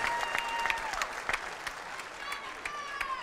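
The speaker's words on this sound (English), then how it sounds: "can we have a round of applause for these two young, up-and-coming competitors?" Crowd applause inside the Fox Theater boxing arena for two young competitors, a moderate, fairly distant patter of clapping with a voice speaking over it and a few whoops.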